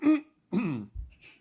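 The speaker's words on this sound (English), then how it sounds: "clear your throat out." A person clears their throat in two firm, close bursts separated by a short pause, followed by a brief, fainter third rasp, with no other sound around them.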